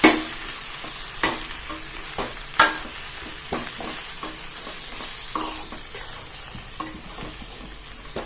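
Manathakkali greens sautéing in a hot pan over high heat, a soft continuous sizzle broken by regular sharp scraping knocks of a spoon stirring, close and without voices.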